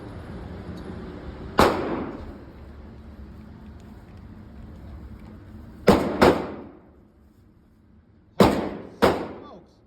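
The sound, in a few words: gunshots firing 7.62 rounds without a suppressor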